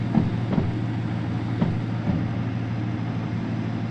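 A locomotive running on rails in the railway game Derail Valley, a loud continuous rumble with a few rhythmic wheel clacks, close and unbroken.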